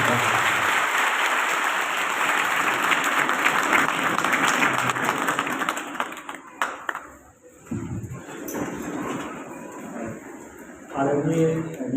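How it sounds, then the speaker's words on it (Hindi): Loud, vigorous applause from a crowd at a farewell ceremony for an IPS officer, the Motihari police superintendent, sustained for several seconds before fading into quieter, intermittent room sounds and a brief voice. "आप जोरदार तालियों से अपने कप्तान का"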